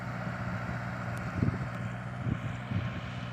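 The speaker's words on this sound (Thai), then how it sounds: "ลมค่อนข้างแรงนะครับ คล้ายๆฝนจะตกแล้วนี่" Strong wind gusting over open farmland just before rain, a steady rushing roar with low buffeting thumps against the microphone and a few louder gusts, no voices.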